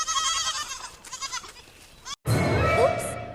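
Sheep bleats in a toddler farm-animal puzzle game: wavering bleating calls at close range, with a short pause and then another bright bleat over game effects, and no speaking voice.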